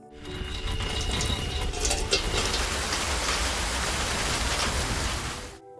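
Heavy storm rain in a film scene, with a box holding a woman battered by sea waves. A steady, dense hiss of downpour runs loud and unbroken from start to end, with no voices.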